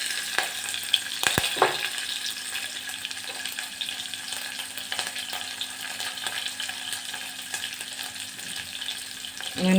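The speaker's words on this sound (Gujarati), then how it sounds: "અને સરસ સોતે કરશું." Sliced onion sautés in hot oil with crackled mustard seeds, cumin and curry leaves for sambhar rice, making a continuous close sizzle with a few sharp pops and stirring clicks early on.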